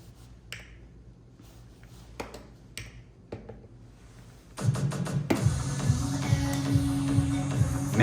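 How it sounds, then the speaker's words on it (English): A manual backspin on a DDJ-FLX10 DJ controller: sparse clicks and taps, then a sudden surge of dense, smeared music that winds through its pitch sweep and continues loudly to the end. "the next transition that you should be aware of is going to be the backspin"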